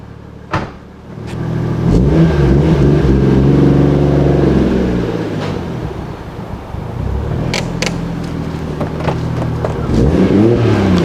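A tuned Toyota JZX100 Mark II Tourer V with a rebuilt engine and Tomei M8280 turbo is revved through its exhaust muffler, loud and close, with a blip, sustained rises and falls in pitch, then renewed revving.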